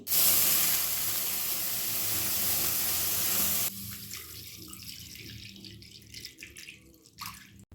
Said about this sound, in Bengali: কড়াইয়ে দুধটা ঢেলে নিচ্ছি